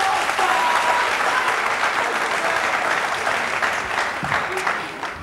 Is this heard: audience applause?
yes